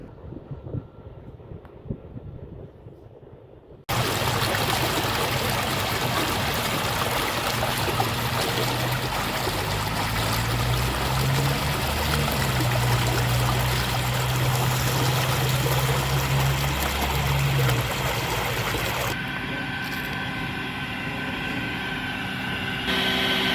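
Water pours steadily from an underground turbine-fed pipe into irrigation channels on a village farm in Saudi Arabia, a loud, continuous rushing gush with wind buffeting the microphone, beginning abruptly after a few quiet seconds.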